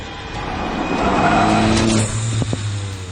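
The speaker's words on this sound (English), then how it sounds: "Those little crackles and bangs from the exhaust" A sports car engine with a valved exhaust revs and swells loudly, then a few sharp pops and bangs crackle from the exhaust as it eases off.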